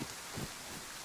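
Steady rain falls in DayZ, a broad hissing wash of drops with a few low gusty swells, close and constant through the short stretch.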